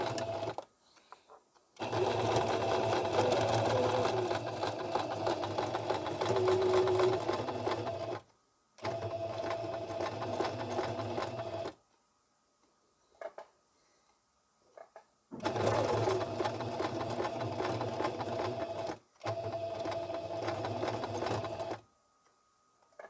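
A sewing machine stitches and backstitches a seam on a small fabric shoulder bag, running in several steady bursts of whirring needle rhythm separated by short pauses, loud and close with no talking.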